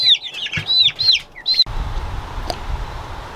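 Fully feathered chicks about 25 days old peep in a rapid series of high, bright chirps, close and clear, then stop abruptly as a low background rumble takes over.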